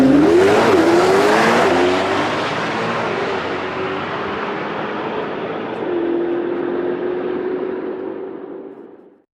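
A Corvette ZR1X launches at full acceleration, its engine note climbing sharply with a tire squeal at the start, then holding a steady high roar that fades away into the distance.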